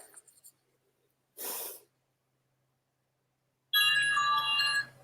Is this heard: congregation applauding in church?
no